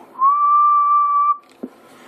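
A single steady whistle held for about a second into a CB radio microphone during an output test on a Texas Ranger TR-696FD1, loud and close, followed by a short click and quiet.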